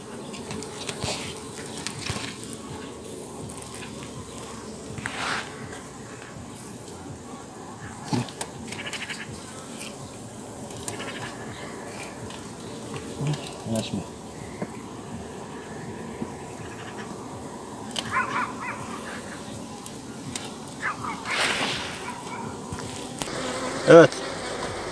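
Steady low honeybee buzzing at a hive fills the background throughout, with scattered faint knocks and rustles at close range.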